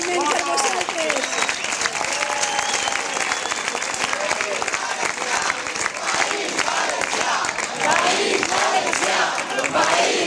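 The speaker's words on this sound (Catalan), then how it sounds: "Un aplaudiment per vosaltres." A large crowd at a political rally applauds loudly and continuously, dense clapping mixed with cheers and shouts, with a voice speaking over the noise.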